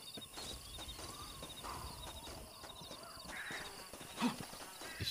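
Horse in the video game Red Dead Redemption, quiet clip-clop hoof steps and a brief snort against soft outdoor ambience with scattered bird calls.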